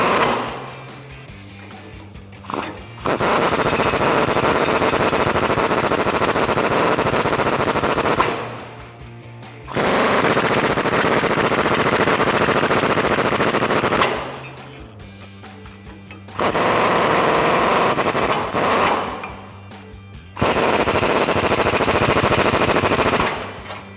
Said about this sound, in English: with your 22mm socket, go ahead and tighten these down